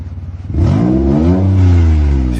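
A faulty car engine revs hard and steadily, rising and holding with a raspy, buzzing tone like a dirt bike, loud and close with no voices.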